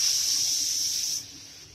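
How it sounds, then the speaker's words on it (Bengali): Loud, steady steaming hiss as spiced water with yogurt, turmeric, Kashmiri chilli, cumin, coriander, ginger and jaggery is poured into a hot pan of dry-roasted spices for a zero-oil squash and potato curry, easing off after about a second. "এই মশলা গোলা জলটা আমি এবার দিয়ে দেব"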